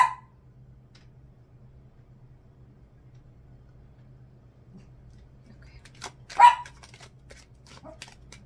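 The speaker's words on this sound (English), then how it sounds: "my dog's been barking at shuffling" A dog barks in a short burst, a single sharp bark or two, fairly close in a quiet room over a steady low hum, with faint rustling around it.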